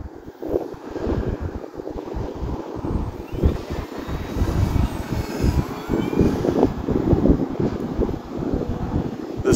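An FMS Pitts V2 1400mm model stunt airplane engine drones overhead, rising and falling in pitch as it maneuvers into a stall turn, with gusts of wind buffeting the microphone.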